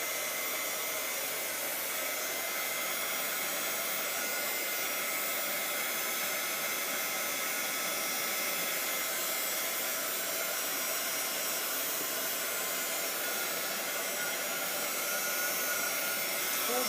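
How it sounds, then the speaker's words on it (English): A heat gun blows hot air steadily over a paper craft layout, a continuous, even rushing hiss that holds near and unbroken throughout with no voices. "put that heat gun away in a safe place every time, just so nothing bad happens"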